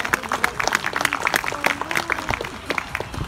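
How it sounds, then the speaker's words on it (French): Scattered, uneven claps from spectators at a sea lion show at an African safari park in Toulouse, France, sharp individual hand claps rising and thinning over a few seconds, with some faint background sound. "vous pouvez l'applaudir"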